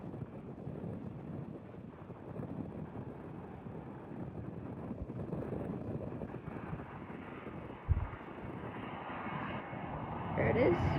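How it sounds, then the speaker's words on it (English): A QantasLink Airbus A320 arrives on runway 06 at Perth Airport, its engine noise a steady, moderately distant roar mixed with wind buffeting the microphone, with a brief thump near the end. "Here is a QantasLink Airbus A320 coming in."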